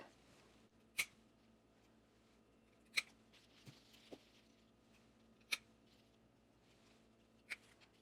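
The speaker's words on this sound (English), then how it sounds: "we're going to come in and snip just like that" Scissors snip coleus cuttings in a quiet room: five sharp, isolated clicks spaced a second or two apart, close and soft, with faint handling rustle between them.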